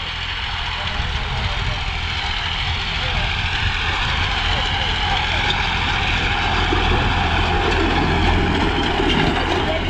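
Massey 9500 tractor pulling an 18x18 disc harrow at high speed, a loud continuous engine drone with heavy low rumble and steady mechanical noise throughout.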